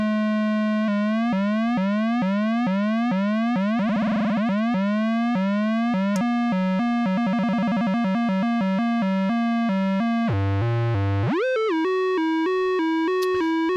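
Buchla Easel modulation oscillator producing a saw wave in its low range, a buzzy synth tone modulated into rapid, rhythmic pitch sweeps and pulsing chirps that speed up and slow down, loud and without voices.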